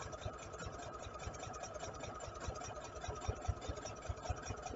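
Sewing machine running steadily while stitching a raglan nursing T-shirt, a continuous rapid mechanical whirr with fast rhythmic needle pulses, fairly quiet and uninterrupted.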